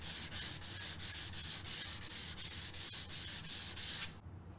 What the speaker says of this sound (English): Now that your edges are all flush, go over it with a piece of sandpaper.